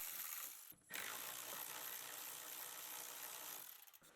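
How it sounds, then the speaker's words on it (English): A ratchet wrench unbolting 10mm heat shield fasteners beneath an Audi B9 SQ5, faint steady clicking with a brief pause early on, quiet and close with no talk. "remove the heat shield in between the exhaust and driveshaft carrier by unbolting the 4 10mm fasteners"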